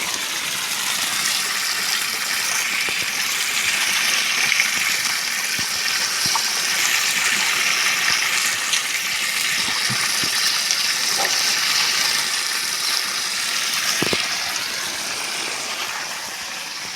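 Water gushes steadily through a channel irrigating fields, a continuous broadband rush that stays at an even, fairly loud level for the whole stretch with no voices.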